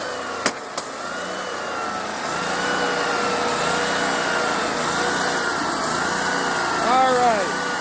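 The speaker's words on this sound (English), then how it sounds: "That's George Sanchez running the stump grinder." A tree stump grinder runs with a steady, droning engine and cutting noise that holds throughout, with a few sharp knocks near the start.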